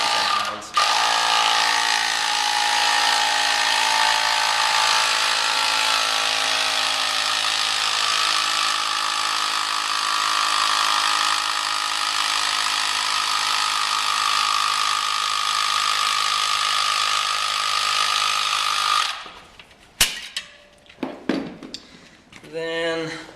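Air is pumped into a tubular road bicycle tire up to about 110 psi, giving a long, steady, loud hissing drone that runs for nearly twenty seconds before cutting off into a few clattering handling noises.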